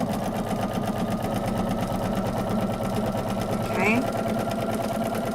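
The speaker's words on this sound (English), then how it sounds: "you are going to sew 1/4 of an inch down that entire side" A sewing machine runs steadily throughout, stitching a quarter-inch seam down the side of quilt fabric, with a constant fast whirring hum and a brief spoken word near the end.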